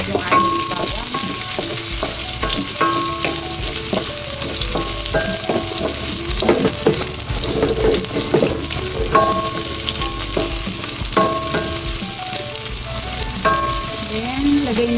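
Sliced onion and garlic fry in oil in a pan with a loud, continuous close sizzle, broken by occasional scraping and clinking stirs.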